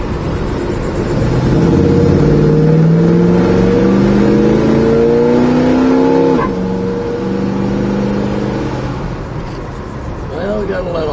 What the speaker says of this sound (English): But the car pulls just the way it should. It's a nice small block. You heard it shift from first to second.